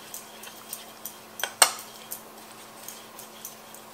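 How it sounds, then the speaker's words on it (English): Sugar is mixed into wet brownie cookie ingredients in a bowl, with a spoon tapping and scraping at a rough steady rhythm and one sharper clink near the middle, quiet and close, without speech. "Mix the sugar in with that."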